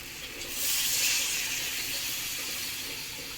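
Water is poured into a pan of frying dried shrimp curry and sets off a sudden loud hiss of steam. The hiss swells within a second, then settles into a sustained, slightly softer sizzle.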